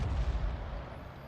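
A leFH18B2 105 mm artillery gun fires a shell in a tier 5 tank battle video game, a loud low booming blast that rolls and rumbles throughout the short moment.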